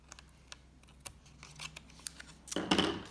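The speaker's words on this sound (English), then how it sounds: "I'm just gonna turn it over and I'm gonna trim the excess of the palm trees off" Scissors snip away the excess paper of palm-tree die-cuts on a handmade card, a run of small close crisp cuts ending in a louder burst of rustling paper.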